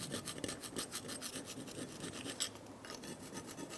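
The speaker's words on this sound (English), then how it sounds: "You're going to want to get a little screwdriver and get in the cracks here, little crevices," Small screwdriver scraping dirt out of the crevices of a rear brake on a 2012-2018 Ford Focus, a steady rapid rasping scratch repeated in short strokes, close and fairly quiet.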